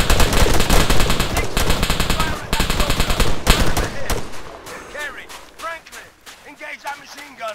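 Soldiers in the ArmA 3 video game open fire, with dense bursts of automatic gunfire and single shots that are loud and close for about four seconds, then taper into scattered shots and a shouted voice.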